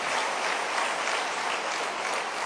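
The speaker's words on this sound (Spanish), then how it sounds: "Da un aplauso al Rey bendito" Congregation applauding during a church service, a dense steady wash of clapping from many hands held at an even level throughout, with no voices on top.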